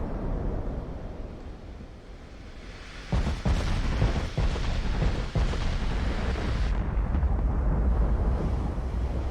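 Montana-class battleship main guns firing in the naval game Ultimate Admiral: Dreadnoughts, a low rumbling bed that breaks into a series of heavy booming salvos, loud and rolling, overlapping one another near the end.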